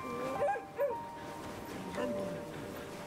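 Dog and wolf sounds from the Red Lantern video game, with short yips and whimpering bursts over roughly three seconds of playful activity, mixed with a voice-like tonal layer in the background.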